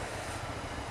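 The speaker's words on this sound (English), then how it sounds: "Nice train going across there." A train rumbles past at a distance near a small Suffolk town, a steady, broad roar with low rolling undertones throughout the short stretch.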